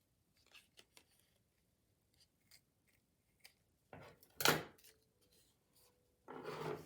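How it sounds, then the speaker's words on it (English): Scissors trim a paper doll with a handful of faint, sparse snips close by, followed by a louder cut and a short rustle of paper. "I'm just gonna trim this off"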